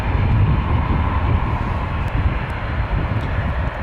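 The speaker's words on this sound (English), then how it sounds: "Korean Air 71 from Seoul on a 787-9 Dreamliner that was just cleared to land" A Korean Air Boeing 787-9 Dreamliner lands on runway 26 left at Vancouver. The jet rumble is loud and continuous and sits close by, with no voices over it.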